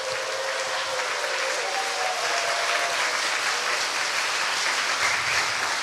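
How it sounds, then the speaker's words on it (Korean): A church congregation at a pastor's installation service applauds together, a steady, dense wash of clapping that holds loud and even for several seconds without pause. "다 같이 큰 박수로 부탁드리겠습니다"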